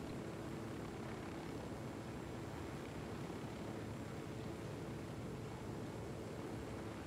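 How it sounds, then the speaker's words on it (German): A helicopter in the video game Ghost Recon Wildlands during a night mission over oil facilities gives a steady, distant rotor drone, a low rumble that holds even for several seconds with no speech over it. "da ist eine Heli"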